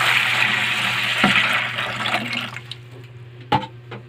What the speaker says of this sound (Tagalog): nilalagyan ko natin siya ng tubig